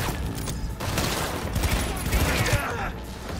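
Rapid gunfire in the video game Cyberpunk 2077, shooting from behind cover, crackles as a dense, continuous barrage with a player's voice talking over it.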